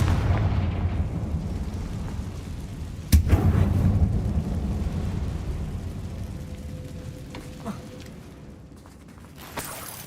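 Explosion from the Confringo fire spell in Hogwarts Legacy, a sharp loud burst followed by rolling rumble, then a couple of smaller pops fading toward the end over a dense low background.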